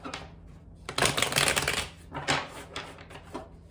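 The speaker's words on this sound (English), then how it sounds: "I'll give the deck just a couple more shuffles" A tarot card deck is shuffled in a few quick riffles, papery flutters rising and fading in short bursts, close and fairly soft.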